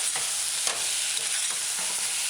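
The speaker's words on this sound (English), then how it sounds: "Once you add all the ingredients, stir it in a few times." Herbs are stirred into a chickpea, mushroom and pepper stew, a loud close sizzle of frying with a few scraping strokes of the spoon in the pot, no talking.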